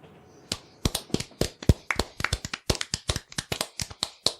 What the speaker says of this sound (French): C'est des applaudissements peu nourris parce qu'on est que 3